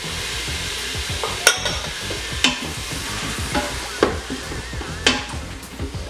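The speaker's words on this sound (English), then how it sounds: "We're ready for our tomato. So go ahead and give those a good stir." A spoon stirs chopped tomato into a sizzling garlic, ginger and chili paste in a pan for Punjabi rajma, steady frying crackle punctuated by roughly once-a-second scraping knocks against the metal, no talking.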